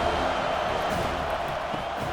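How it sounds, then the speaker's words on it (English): Stadium crowd roaring on third down in EA College Football 25, a dense, steady, loud wall of cheering and whooping that holds throughout without a break. "3rd down, and this crowd is tearing the lid off this place."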